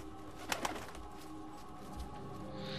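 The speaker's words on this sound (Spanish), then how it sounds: "Eso, más que un cuervo, parece una paloma al volar. El sonido me refiero" Wing flaps of a pigeon taking off in the stealth game Thief, two quick fluttering bursts early on, over a steady low game ambience with a hum.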